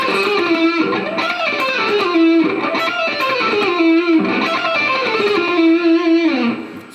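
Electric guitar lead solo with fast picking through a distorted, effects-laden tone, running quick repeated melodic phrases that rise and fall in a steady rhythm, loud and close with no talking.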